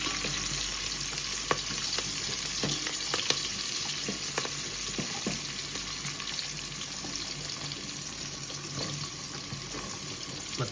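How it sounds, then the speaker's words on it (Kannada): Chopped onions and curry leaves sizzle in hot oil for a tempering, a Karnataka home-style bassaru, as a steady, close crackling hiss runs throughout with scattered sharper pops and no talking. "ಇದನ್ನು ಚೆನ್ನಾಗಿ ಒಗ್ಗರಣೆ ಮಾಡಿ"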